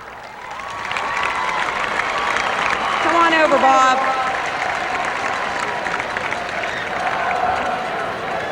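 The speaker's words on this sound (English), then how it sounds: "Give him a round of applause." Crowd applauding at the OVAC All-Star high school football game in 2006, a broad sustained wash of clapping and cheering heard under someone talking over a loudspeaker.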